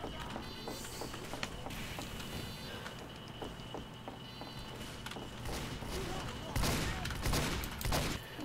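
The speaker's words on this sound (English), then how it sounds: "Someone's shooting." Scattered gunfire during a Team Fortress 2 match on the 2Fort map, Halloween Scream Fortress event: sharp repeated shots crackle at a moderate distance over a busy background of game noise, with a louder burst of activity toward the end.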